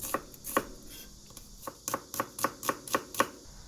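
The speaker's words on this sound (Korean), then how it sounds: "양파 반 개를 잘게 썰어주시고요." Half an onion is finely chopped with a knife on a board, about a dozen crisp, close taps in a quick, slightly uneven rhythm, with no voices.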